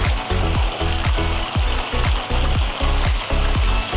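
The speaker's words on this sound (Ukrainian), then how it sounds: "Ну Ось такий вже має напір наш насосик" A KOER WFD sewage pump discharging water under pressure, heard as a loud, steady churning rush with a regular mechanical pulsing and rattling clatter running through it, close and continuous without any talk.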